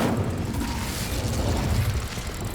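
The Incendio fire spell cast in Hogwarts Legacy, a dense, roaring whoosh of flame that holds steady and loud throughout with a low rumbling boom underneath, no talking.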